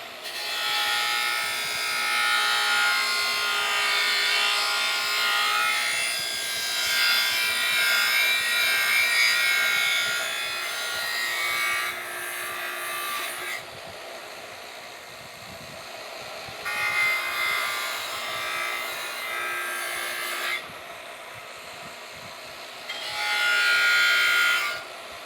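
An Arc Captain Cut55 Prolux plasma cutter removing rust from metal gives a harsh, hissing buzz in long bursts, with short quieter pauses between passes, close and without talk.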